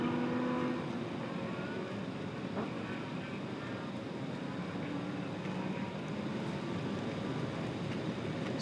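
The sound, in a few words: GT race cars racing at NOLA Motorsports Park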